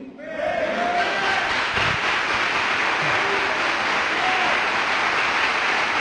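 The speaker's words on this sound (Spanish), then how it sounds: "¿Los varones pueden aplaudir?" Men in a church congregation clap together in a sustained, even burst that swells after a brief lead-in, with shouts and voices mixed under the applause.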